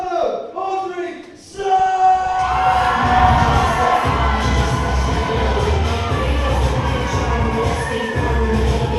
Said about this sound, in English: Please give a warm round of applause for the soprano, Audrey